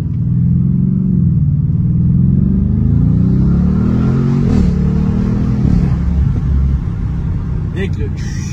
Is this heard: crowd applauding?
no